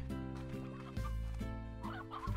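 Chickens in the farm game Slime Rancher, a few short clucks over a steady tonal background hum, fairly quiet and without talk.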